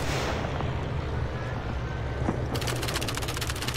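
Rifle shots at helmet targets in Call of Duty 3, heard as a dense, loud volley of rapid cracks in the second half over continuous low battlefield rumble.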